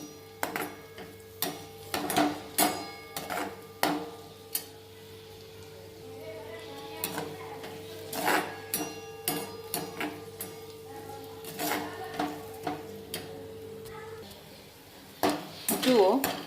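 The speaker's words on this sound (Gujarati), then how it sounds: "સૂકી ડુંગળીને પણ આપણે ધીમા તાપે શેકીશું" Chopped dry onion roasting in ghee in a pan over low heat, with repeated clinks and scrapes of a spoon stirring against the metal at an irregular rhythm, close up with no talk.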